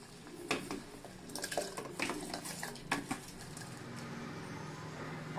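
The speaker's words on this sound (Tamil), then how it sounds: "தண்ணி கொதிச்சிருச்சு, அரிசி போட்டுக்கலாம்." Clinks of a pot and utensils over soft bubbling of boiling water, with a few scattered taps and rattles as rice is tipped into the pot.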